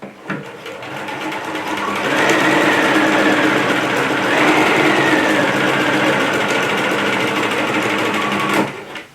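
A sewing machine runs steadily for about eight seconds, stitching apron fabric with a dense, continuous whir before stopping.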